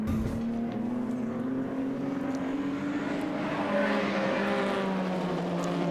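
Historic racing cars, a Corvette battling a Zagato Aston Martin, drone past at a circuit, a sustained engine note rising and falling as they race, moderately distant and continuous.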